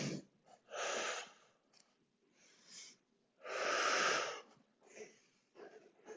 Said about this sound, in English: In through your nose, out through your mouth.